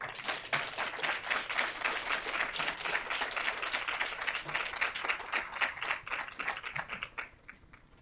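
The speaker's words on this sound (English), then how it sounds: "Can we give Dr. Bowman another wonderful round of applause?" Audience applause at an academic event honoring Dr. Bowman: dense, steady clapping from many hands for about seven seconds, then thinning and fading at the end.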